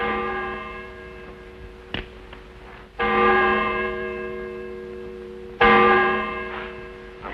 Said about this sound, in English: That bell was your call to prayers, mister.